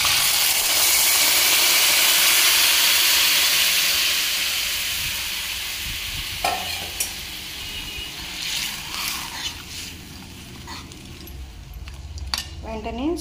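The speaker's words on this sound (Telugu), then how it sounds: "మనం తయారు చేసుకున్న మజ్జిగ కూడా ఇందులో వేసేసుకుంటాము" Buttermilk poured into a hot tempering for pakoda majjiga, a loud hissing sizzle that gradually fades, followed by clinks of a spoon against the pan.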